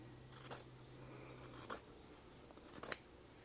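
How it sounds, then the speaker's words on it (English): Scissors cut fabric between sewn seams while a quilted table runner is made. Three or four short, crisp snips come at irregular intervals, close but fairly quiet, over a low background hum, with no talking. "Then I will cut in between the seams."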